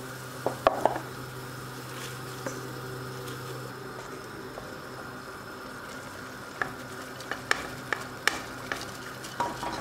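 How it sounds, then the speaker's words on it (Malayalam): Pre-roasted rice tipped into boiling water for an egg mandi, a soft bubbling simmer with several sharp clinks and scrapes of a spoon against the pot scattered across the clip. "തിളച്ച് വരുമ്പോൾ നമുക്കിതിലേക്ക് നമ്മൾ നേരത്തെ വറുത്ത് വെച്ചിരിക്കുന്ന അരി ചേർത്ത് കൊടുക്കാം"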